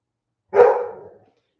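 A single loud dog bark rings out close by, then quickly fades into silence.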